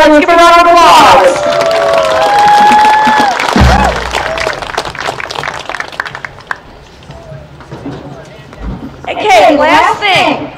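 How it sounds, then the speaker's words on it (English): Crowd applause and cheering at a marching band show for the boosters and officers, loud and close, with shouts and whoops mixed into the clapping, fading briefly in the middle before swelling again. "Let's give a round of applause."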